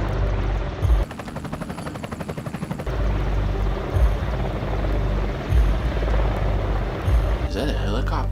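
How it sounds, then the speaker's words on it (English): Helicopter in the Roblox video game, a loud steady rotor thrum running throughout, with a rapid chopping burst partway through and louder spikes, under occasional voices. "Is that a helicopter?"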